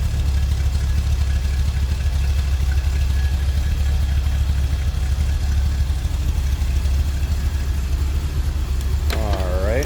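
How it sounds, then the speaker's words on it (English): A 1974 Chevrolet Corvette convertible engine idles through true dual exhaust with a deep, steady rumble close by, unbroken and even throughout with no talking. "It is a true dual exhaust."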